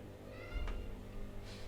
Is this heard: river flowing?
no